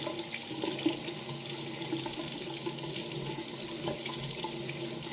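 Tap water runs steadily into a sink at close range, a continuous even splashing with no pauses and no voices.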